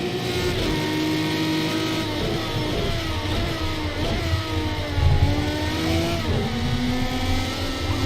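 A race car in a racing video game revs and accelerates through gear changes, a loud, continuous engine whine rising and falling in pitch, heard alone without talk.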